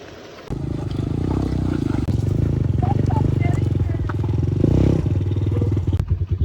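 A motorcycle is ridden up a slope on a rough road near Noori Waterfall in Haripur, its engine a close, steady, loud rumble with rattling clatter throughout.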